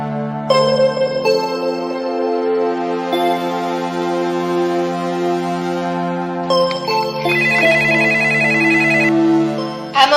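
Phone ringing on an outgoing call, with a melodic electronic ringtone playing loud and close in repeating phrases for about ten seconds and no talking over it.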